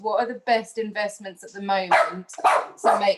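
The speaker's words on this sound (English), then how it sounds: "sorry, that's my dog" A pet dog barks and yips in a run of sharp repeated barks close by, overlapping a person speaking.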